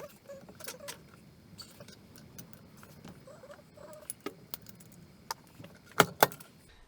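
A Showa fork tube from a Ducati ST2 being whacked to knock out the bush, with scattered light metallic taps and clicks that end in two sharper, louder knocks.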